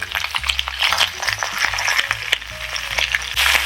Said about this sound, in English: you hear that sizzling? That is the water that is still on top of the asparagus.